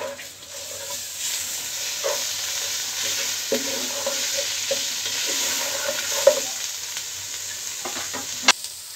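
Soya chunks and onions frying with spices in a pan for soybean biryani, a continuous close sizzle with repeated stirring scrapes and a couple of sharp utensil knocks; no voices.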